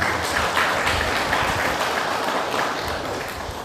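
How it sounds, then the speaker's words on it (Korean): An audience at a Buddhist temple dharma talk claps for the head monk, a dense, sustained round of applause that stays steady and then slowly tapers off. "네, 주지스님한테 박수 한번 크게 쳐주시기 바랍니다."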